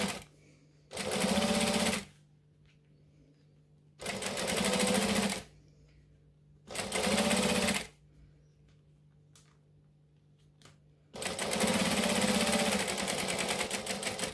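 Four bursts of close, steady whirring from a sewing machine stitching a backpack strap, each run lasting a second or more, with quiet gaps between them and the last run the longest.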